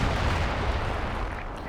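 A Walking Stuka rocket artillery barrage in Company of Heroes 2 lands as one dense, rumbling roar of overlapping blasts, loud and sustained from start to finish.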